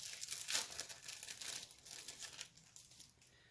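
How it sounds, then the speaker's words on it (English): Light switch covers being cut from plastic packaging, faint close crinkling and crackling of stiff plastic in irregular bursts that fade toward the end. "we'll just take 2 of them out of the box and we cut them out of the package"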